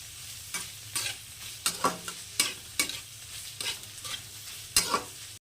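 Chicken lightly fries on medium heat in a pan for egg chicken fried rice: a soft sizzle under regular spatula scrapes and stirs that come roughly every half second, close up and without speech.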